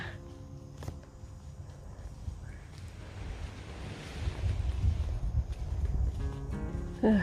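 Steady wind blowing along the beach at Khlong Nin on Koh Lanta, Krabi, with a broadband rush and faint surf that swells louder toward the end, the wind buffeting the microphone.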